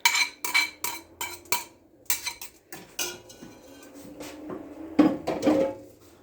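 Meat going back into a pot of vegetable beef barley soup made with store-bought broth, with repeated sharp clinks of a metal spoon against the pot, in quick bursts close by, then a scrape and a duller knock.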